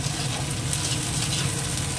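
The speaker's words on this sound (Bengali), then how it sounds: "পেঁয়াজটা ভাজা হয়ে গেছে, টমেটোটাও দিয়ে দিই আর কাঁচা লঙ্কা কুচোনোটাও দিয়ে দিই, একটু ভেজে নিই।" Chopped onion, tomato and green chilli fry in a pan, giving a steady, even sizzle with soft crackles throughout, close by and without talk.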